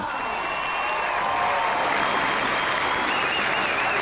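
A large stadium crowd at a women's fastpitch softball gold medal game between Australia and Japan at the Blacktown Olympic Centre applauds steadily after the national anthems, a loud continuous wash of clapping with faint whistles on top.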